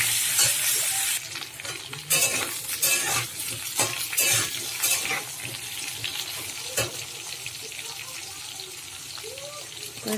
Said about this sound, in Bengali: এবারে কেটে রাখা সবজি, পেঁপে আলুটা দিয়ে দিলাম, দিয়ে সবজিটা ভালো করে একটু তেলে কষিয়ে নেব